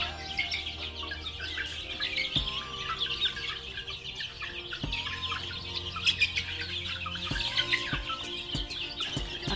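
Newly hatched chicks from a homemade incubator peep constantly alongside clucking chickens on a farm, with a few sharp knocks partway through, moderately close and steady, no talking.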